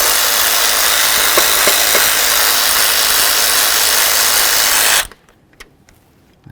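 A power tool removing the upper bolts during a fuel injector seat replacement on a 2005-14 Ford Mustang, a loud steady whirring drone for about five seconds that stops abruptly, followed by faint clicks and clanks.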